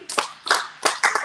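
Four sharp hand claps in an even rhythm during a children's story time, close and loud with no talking.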